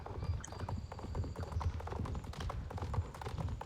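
Horse hooves clip-clop at a steady, even rhythm while riding in the video game Star Stable Online, a continuous trotting patter over a low background hum, with no talking.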